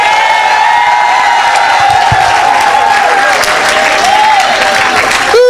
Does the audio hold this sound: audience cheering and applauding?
yes